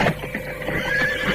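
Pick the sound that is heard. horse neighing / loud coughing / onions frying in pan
horse neighing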